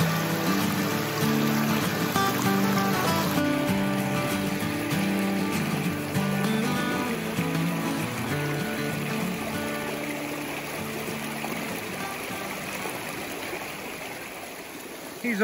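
Stream water rushes steadily through a sluice box while gold prospecting on a river's east branch in Maine, a continuous close wash with a slight fade toward the end.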